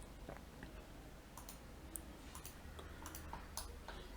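A few light mouse clicks, faint and isolated, over a low steady hum from a desk with CATIA V5 open, including one click on OK.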